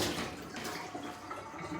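Tap water running over a piece of ginger being rinsed in a kitchen sink, a soft continuous splashing rush, faint and steady for a brief moment.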